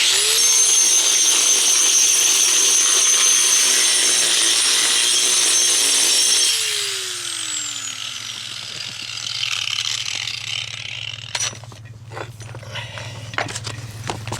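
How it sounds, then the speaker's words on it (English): Small angle grinder cutting down a patio stone, a loud high whine with harsh grinding for about six seconds, then the motor spinning down with a falling pitch, followed by scattered clanks and scraping. "We're going to grind this down like this. I'll get my little grinder and grind it down."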